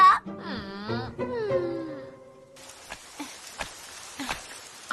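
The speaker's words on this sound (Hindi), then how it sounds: "आजकल बारिश का मौसम है।" Cartoon rain in a rainy-season scene of Doraemon sets in halfway through as a steady hiss with scattered drops, right after a wavering, wailing vocal sound.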